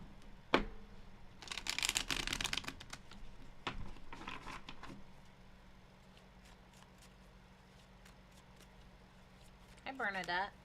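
A deck of tarot cards is shuffled close by in a brief flurry of riffling and papery slaps, followed by softer handling sounds and faint movement.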